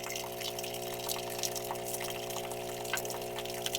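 Water gushes and splatters steadily from a tractor tyre valve, a continuous trickling rush over a constant low mechanical hum.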